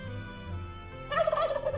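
A turkey gobble plays as a stream alert, a loud bright warbling burst in the second half over steady low background music.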